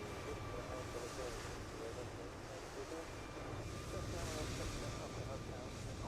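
Aircraft engines in a flight simulator game give a steady, broad drone and rumble that fills the whole clip at low level. A faint background voice comes through underneath.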